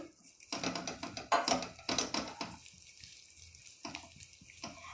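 Flour and water squelching and sloshing as a hand mixes them in a kadhai, a close wet churning that comes in bursts, strongest early, then eases into quieter splashes.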